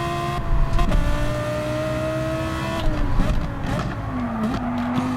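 A Lamborghini Huracan GT3 race car at Daytona in Gran Turismo 7 drones loudly and steadily, its engine pitch sliding down through gear changes with brief tire squeals, and no one speaks.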